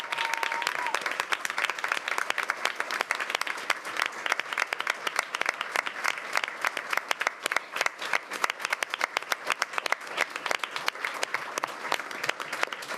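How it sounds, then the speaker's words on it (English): Audience at a school board meeting applauding for a high school senior, sustained dense clapping from a room of people lasting throughout, fairly close and even, with no speech over it. "Let's give him a round of applause."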